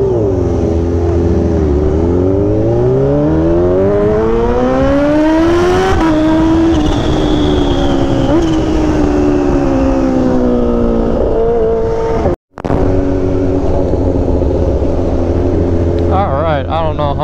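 A Kawasaki Ninja H2 motorcycle engine runs steadily while riding through crowded Hollywood Walk of Fame streets, its pitch climbing and falling with throttle changes. The loud, close engine drone is broken by a brief dropout near the end.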